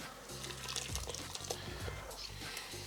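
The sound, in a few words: tomato basil soup poured through a mesh strainer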